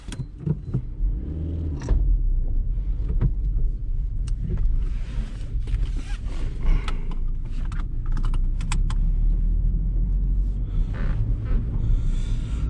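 A 2008 Suzuki Swift 1.3 Shogun drives along with a steady low engine and road rumble, while interior clicks and knocks sound sporadically close by; nobody talks.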